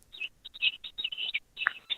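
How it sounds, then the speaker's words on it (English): Small birds chirp in quick, bright bursts close by, a rapid run of short high tweets with brief pauses between them and no talk over it. "I hear some birds chirping in the background."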